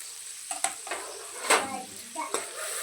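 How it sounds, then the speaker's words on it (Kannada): Onions fry on a low flame in a pan for a palak and peas gravy, giving a soft sizzle broken by a few short scraping stirs and light clinks, with no talk. "ನಾನು ಸ್ವಲ್ಪ ಫ್ರೈ ಮಾಡ್ಲಿಕ್ಕೆ ಲೋ ಫ್ಲೇಮ್ ಒಳಗಿಟ್ಟು ಈಗ ನೋಡ್ರಿ ಇದ್ರಾಗ ಈರುಳ್ಳಿ ಸೇರಿಸ್ಕೊಳತ್ತೀನಿ."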